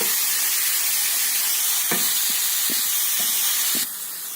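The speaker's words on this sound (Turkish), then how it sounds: "Eti tencereye koyduğumuzda bu cızırtıyı duymanız gerekiyor." Loud, steady sizzling hiss of meat searing in a hot pot for a Turkish meat sauté, with a few brief clanks of stirring partway through.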